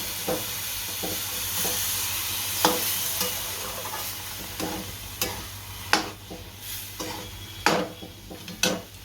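Spoon stirring milk into a cooking suji and coconut sweet mixture in a pan, with repeated scraping strokes at an uneven rhythm over a soft sizzle, close and moderately quiet.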